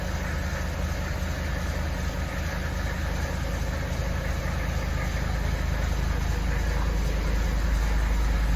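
A 1979 Mercedes-Benz 300SD turbo diesel idles steadily just after a cold start, a close, continuous low rumble and clatter that holds even throughout without a break.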